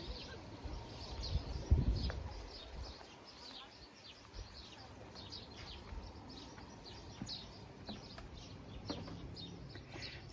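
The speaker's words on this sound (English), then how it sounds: "you can probably hear the bird song in the back" Birds chirp and sing outdoors in front of a tiny home with a garden, a scatter of short faint tweets in the distance over steady background hiss, with a low rumbling thump near the start.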